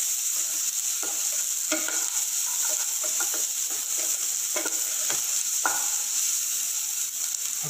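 Onions frying and browning in a pan for homemade pizza sauce, a loud continuous sizzle with occasional stirring clicks and scrapes, close up and without talk.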